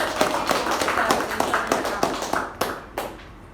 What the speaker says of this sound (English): a huge round of applause for Toastmaster Lakshmi.